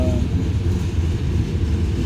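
A CSX freight train rolls through the Kingston rail yard with a steady low rumbling drone of cars, heard fairly close and continuous, with no talk.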